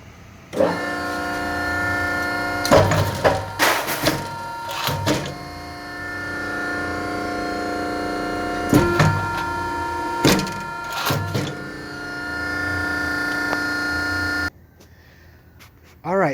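A hydraulic metal shear used for cutting welding pieces hums steadily with a droning motor tone, broken by several sharp, loud clunks as blades drop, before the machine cuts off near the end and a faint room tone remains.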